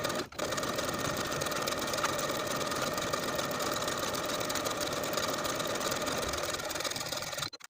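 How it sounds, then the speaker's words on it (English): A sewing machine runs a stretch stitch around the top edge of a pants waistband, a loud, continuous mechanical whir sustained for several seconds without pause, ending abruptly. "sew all around that top edge with a 5/8 inch seam allowance using a stretch stitch"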